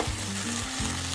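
Chicken thigh fillets coated in flour pan-fry in hot oil until browned, giving a loud, even sizzle and crackle that fills the whole moment with a low hum beneath it.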